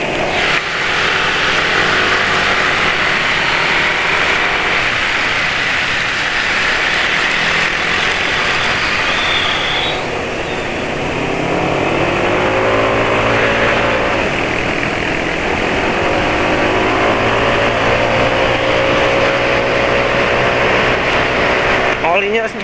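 A motorcycle engine running on 20W50 oil revs up and down with a rough, harsh tone, loud and close, its pitch rising and falling over about twenty seconds.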